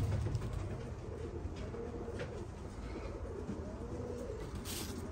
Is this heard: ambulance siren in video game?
no